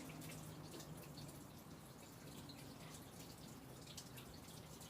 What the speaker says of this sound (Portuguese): Deixa eu lavar minha mão.